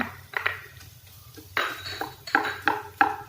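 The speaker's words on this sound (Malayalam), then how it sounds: "കിഴങ്ങ് ചേർത്ത് നന്നായി വഴറ്റി മൂടി വെച്ച് വേവിക്കുക." A spoon clinks and scrapes against a cooking pan as potato is stirred into an egg puff filling, several sharp metallic knocks in uneven bursts, close up and alone in a quiet kitchen.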